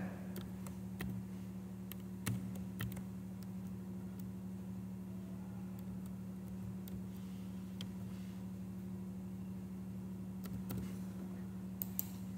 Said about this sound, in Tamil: இப்போ ஃபார் எக்ஸாம்பிள், நான் என்னோட விசாவை நான் டைப் பண்ணுறேன் பாருங்க.